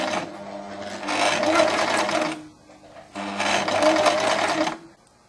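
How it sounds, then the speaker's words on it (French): A sewing machine runs a zigzag overcast stitch along the edge of silk satin in two steady bursts of fast mechanical whirring with a brief pause between them, close and alone. "On règle sa machine pour faire un zigzag pour surfiler."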